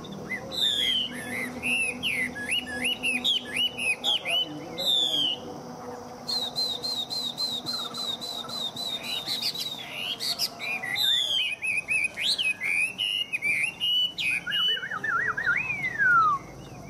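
A caged Chinese hwamei songbird, hand-raised for three years, sings loud, clear and close, with rapid varied whistles and trills in repeated bursts and no talking.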